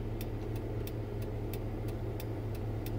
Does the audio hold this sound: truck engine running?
yes